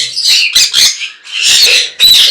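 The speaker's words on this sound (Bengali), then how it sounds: "লটিনো কোকাটেল মাস্টার পেয়ার" Loud, harsh squawks from lutino cockatiels at a bird market, several shrill bursts in quick succession with short gaps, close to the microphone and with no talking.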